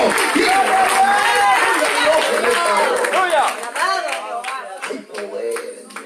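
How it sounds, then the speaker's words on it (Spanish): A church congregation claps and cheers together, loud and dense, while a voice speaks over the crowd, the applause thinning toward the end. "Es fuerte este aplauso, diga amén."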